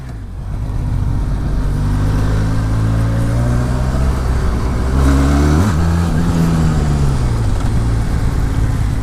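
A Benelli TRK 502 motorcycle engine on a test ride holds a loud, steady drone close by. Its pitch climbs in a rev, dips and rises again midway before settling back.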